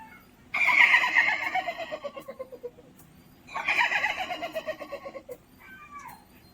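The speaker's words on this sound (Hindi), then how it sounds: "ये आवाज घोड़े की।" A horse neighs twice in a cartoon sound effect, each call a long loud whinny that shakes and falls in pitch, with a fainter short squeal trailing at the end.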